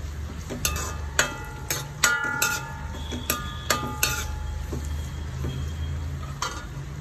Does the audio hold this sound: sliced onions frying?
yes